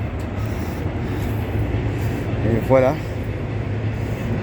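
Montreal metro train running steadily as a low, continuous rumble, with a brief voice speaking over it near the end.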